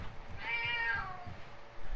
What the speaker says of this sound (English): Hello, cat. Meow.